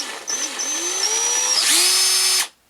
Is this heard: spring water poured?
no